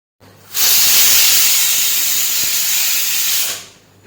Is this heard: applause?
no